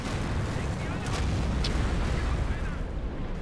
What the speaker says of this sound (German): der beschränkt sich jetzt wirklich als einzigen Angriff mit Raketenbeschuss